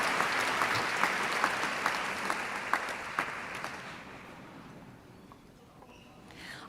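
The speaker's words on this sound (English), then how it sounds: "Let's give them another round of applause." A luncheon audience applauds bucket drummers. The dense clapping is loud at first, with a few sharper individual claps, then thins and fades away over the last couple of seconds.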